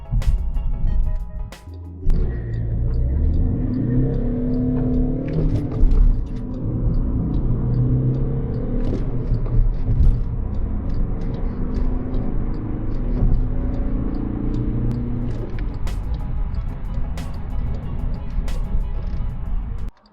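A Skoda Fabia II accelerates, its engine rumbling loudly and steadily from inside the cabin with rising then shifting tones over about twenty seconds.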